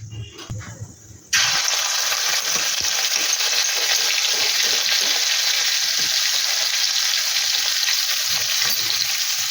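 Ginger and green chilli paste hits a hot pan and erupts into a loud, steady sizzle as it is stirred, after a short quieter moment of faint clinks at the start.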